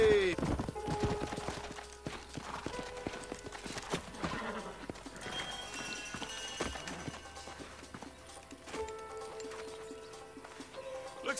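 Horse hooves clip-clopping in the video game Red Dead Redemption, a series of sharp irregular hoof strikes mixed with a brief whinny, game clatter and background sounds, without clear speech.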